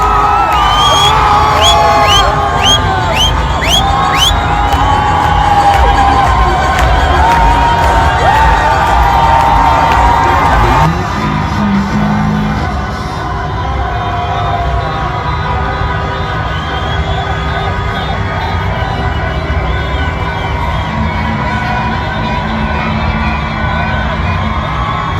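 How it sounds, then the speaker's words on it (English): A large crowd at a political rally cheers and shouts loudly for about ten seconds, then the noise drops to a quieter, lingering murmur of voices. "moments after this crowd learned about the death of Supreme Leader of Iran, Ali Khamenei, they erupted in cheers."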